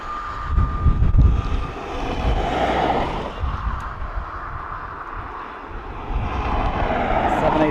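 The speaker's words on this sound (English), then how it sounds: "So, Norwegian Airways coming in from Copenhagen." A Norwegian airliner arriving from Copenhagen at Dublin Airport passes as a broad, steady jet engine roar at moderate distance, rumbling low and swelling slightly toward the end, with no one talking.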